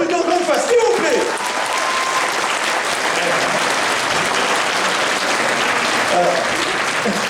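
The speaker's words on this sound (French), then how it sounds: "allez, on l'applaudit encore une fois, s'il vous plaît" Audience applause at a cosplay jury presentation during the Senyu 2020 convention, a steady wash of clapping from a sizable crowd filling the whole stretch, with a few voices and faint calls mixed in.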